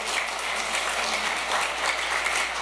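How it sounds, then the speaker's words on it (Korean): Audience applause at a Korean lecture on loyalty, filial piety and etiquette education, a steady dense clapping from a seated crowd that fills the whole stretch evenly, with no talk over it. "여러분을 위해서 한번 박수 안 치실래요?"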